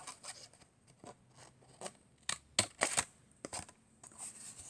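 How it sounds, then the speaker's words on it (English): Scissors cut along a scored line in card stock for a holiday card, making a series of crisp snipping strokes in an uneven rhythm, close up, a few louder bursts in the middle. "get my scissors, and I'm going to cut the line that we just created"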